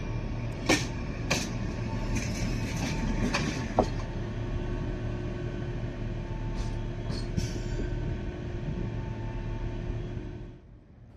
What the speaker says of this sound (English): our train is arriving into platform 5, ready to take us down to Kalmar.